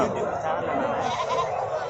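Goats at Samayapuram goat market in Tamil Nadu bleat amid continuous crowd chatter, their calls mixed into a dense, busy market din with people talking throughout.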